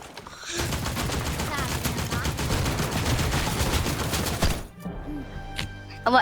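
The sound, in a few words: automatic gunfire in a video game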